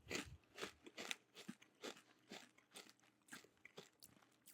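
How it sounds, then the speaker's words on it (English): Close-miked crunching of a puffed pizza Cheez-It snack, about a dozen crisp, crackly bites and chews in an irregular rhythm, right against the microphone with no talking. "I'm gonna try to get a microphone crunch."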